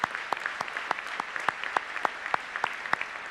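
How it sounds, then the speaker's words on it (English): Applause at a governor's breakfast for elected officials, heard as sparse, moderate clapping from a room of guests with distinct individual claps standing out over a steady patter. "all join me in a round of applause for these elected officials"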